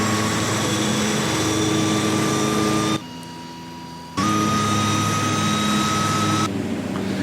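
FMA IA-58 Pucara turboprop by Aeroplane Heaven in a flight simulator game, climbing out after takeoff: a loud, steady engine drone with a high whine that dips briefly in level partway through, then returns at full strength.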